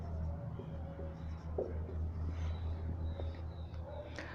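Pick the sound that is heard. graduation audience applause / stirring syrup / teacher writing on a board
teacher writing on a board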